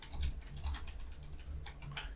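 Rapid computer mouse clicks at a desk during trading backtesting, a steady run of close, sharp little taps with no talking.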